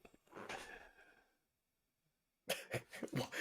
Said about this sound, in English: I'm about to cough already